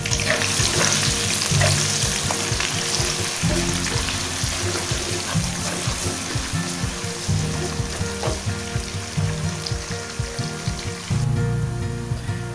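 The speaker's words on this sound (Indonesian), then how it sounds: "Tumis hingga naik bau." Spices and shallot paste for a big-pot wedding-feast beef curry (gulai kawah) frying steadily in hot oil, with a continuous close sizzle broken by repeated scraping stirs of the spatula throughout, no voices.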